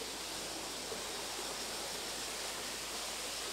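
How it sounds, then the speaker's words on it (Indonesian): Steady, full rush of a river running high after a recent flood, heard up close as an unbroken broadband roar of flowing water with no voices or distinct splashes. "lumayan besar airnya soalnya kan baru banjir"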